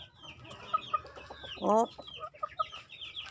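Hens cluck nearby in short, scattered bursts in a large provincial chicken coop, with one louder squawking call in the middle and a brief spoken exclamation.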